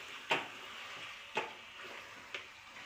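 Ginger garlic paste and tomato frying in a pan, a soft steady sizzle broken by three scraping stirs spaced about a second apart, close by and fairly quiet.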